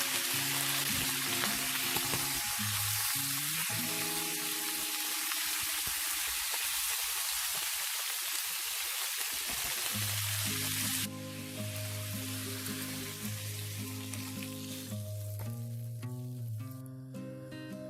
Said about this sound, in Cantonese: 薑，再爆一爆， 蘸入1湯匙嘅紹酒